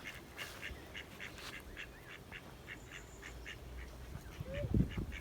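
Small birds that may be ducklings give a quick series of rhythmic quacking calls near a pond at a holiday park, moderately close, over soft outdoor ambience with a brief louder rustle near the end.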